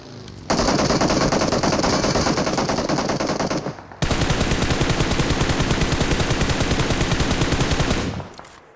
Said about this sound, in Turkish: Arkamda sıkıyorlar ben şuradan kaçmam lazım.